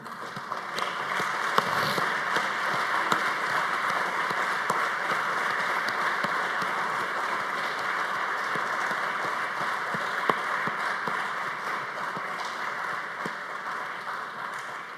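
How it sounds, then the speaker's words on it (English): A large ceremony audience at a building dedication gives a long standing ovation, sustained dense clapping that holds steady and loud throughout without letting up. "like you to join me in a lustrous round of applause"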